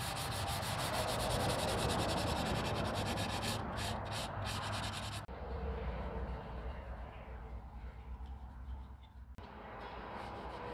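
Hand sanding of a wooden SKS rifle stock with 220 grit sandpaper gives a steady close scratchy rubbing, continuous strokes with brief pauses and a sharper cut-off midway, alone without speech.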